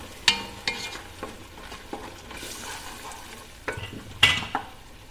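Tomato paste made from two ripe tomatoes is stirred in a pan for pasta, with a gentle sizzle underneath and several sharp clinks of a spoon against the pan at irregular intervals.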